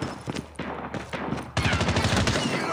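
Sniper rifle fire in the mobile shooter Call of Duty Mobile comes as a few sharp, close shots over a busy background of in-game gunfire.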